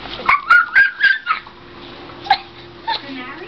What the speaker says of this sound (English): Where's that puppy?